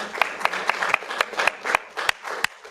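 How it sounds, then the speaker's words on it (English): A small group at a US coin auction claps for a couple of seconds, sharp uneven hand claps with a few louder standouts, close by and without talk. "Yeah, let's clap."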